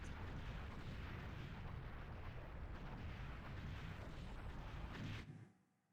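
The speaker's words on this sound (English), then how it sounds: "Ooh, that was a big explosion." A loud, sustained rumbling explosion from the Star Fox 64 video game roars continuously for about five seconds, then cuts off abruptly into near silence.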